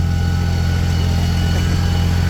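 A tractor engine runs steadily under load while towing uphill, a close, loud, even low rumble that holds constant with no speech.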